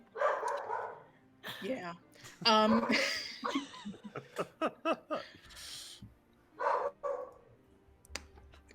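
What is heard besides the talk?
dog barking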